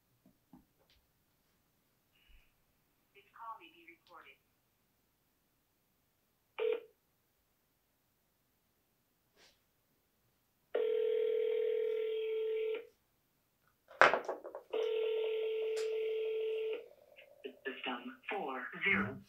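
Repeated touch-tone dialing followed by steady ringback tones on outbound calls to real estate leads that go unanswered, with short bursts of nearby speech between the calls.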